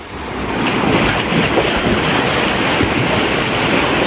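Rough sea waves at a beach resort in Lian, Batangas rush and break in a loud, continuous surge, mixed with strong wind buffeting the microphone.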